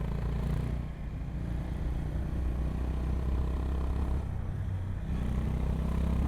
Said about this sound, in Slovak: Nádherné tá motorka ide.